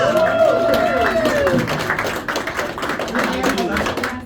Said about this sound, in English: All right, a round of applause for those guys.